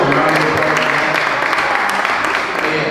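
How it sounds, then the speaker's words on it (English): An audience at a community event claps together in dense, continuous applause that holds loud and steady for several seconds, with some voices mixed in. "So round of applause."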